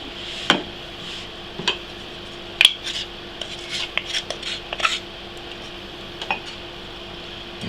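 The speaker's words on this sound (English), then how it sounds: "Now I'm just going to spoon that out" Homemade harissa is spooned from a bowl into an old salsa jar, giving a string of light metallic clinks and taps of spoon on glass and dish over a quiet background.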